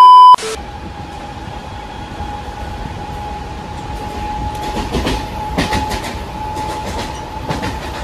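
Mumbai suburban local train bound for Chhatrapati Shivaji Maharaj Terminus, heard from inside as a steady running rumble with rhythmic clickety-clack over rail joints and a sustained tonal hum, after a brief sharp tone at the start.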